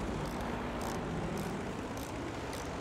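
The propeller engine of a fighter-bomber in Battlefield V drones steadily and loudly from the cockpit, a constant roaring hum with faint periodic higher swishes throughout.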